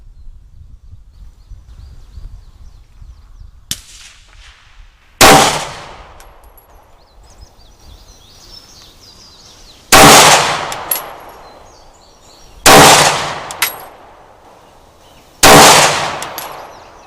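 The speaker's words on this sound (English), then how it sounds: "here's Dad with the M&P Shield, going to shoot 5 with the Blazer brass at 10 yards" An M&P Shield pistol fires Blazer brass ammunition at 10 yards: five loud, sharp gunshots spaced a few seconds apart, each ending in a short decaying echo, with a faint click before the first.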